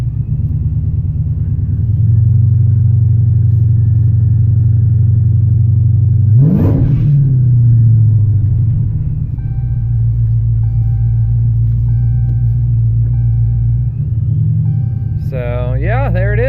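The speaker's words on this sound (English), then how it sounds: "first gear, just in the parking lot here." A Dodge Challenger with a TH400 transmission swap rolls in first gear through a parking lot, a loud, steady low engine rumble that swells briefly, with a person speaking over it.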